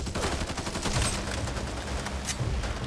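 Sustained gunfire in the video game Back 4 Blood, a dense, rapid fusillade of shots, loud and continuous throughout with no pauses.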